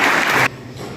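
Audience claps loudly at a Veer Bal Diwas school celebration, a dense burst of applause that stops abruptly midway, leaving quieter room tone.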